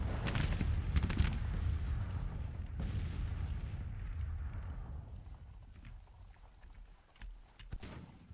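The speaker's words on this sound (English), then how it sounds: "Oh, we've run into some artillery fire." Artillery fire in Grand Tactician: Civil War rolls as low, rumbling booms at a distance, heavy at first and then fading into a quieter tail with a few faint later thuds.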